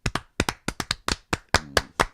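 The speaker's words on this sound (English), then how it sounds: "Yeah, let's do a slow clap." Slow clap from a small group at a casual podcast recording, about ten sharp hand claps spaced unevenly at a slow, deliberate pace, close and loud with no talking over them.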